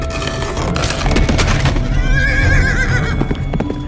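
A frantic horse whinny rises loud and wavering over a dense, dark sound-effect bed with clattering hooves and splintering wood, part of a Spanish-language horror audiobook drama.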